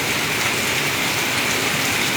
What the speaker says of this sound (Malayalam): ഇത് കാഞ്ഞിരപ്പള്ളി ആനക്കല്ലിൽ പെയ്യുന്ന മഴയുടെ ദൃശ്യങ്ങളാണ്.